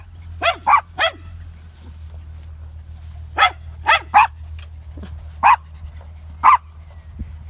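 A puppy barks in short sharp bursts, a quick cluster of three, then several single yips spaced out over a steady low hum, close and fairly loud.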